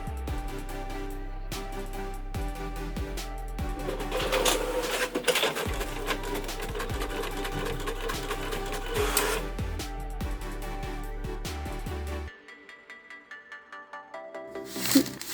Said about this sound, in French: Puis il me reste plus qu'à l'imprimer.